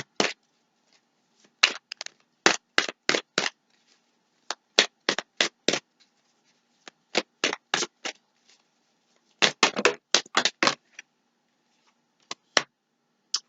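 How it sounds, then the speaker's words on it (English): Tarot cards are shuffled by hand in short crisp bursts, quick riffling flutters separated by brief pauses, close and clear against a quiet background. "We're going to do a little shuffling."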